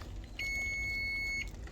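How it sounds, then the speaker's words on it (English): A kitchen timer goes off with one steady, high electronic beep held for about a second over a quiet background hum. "the timer is going off"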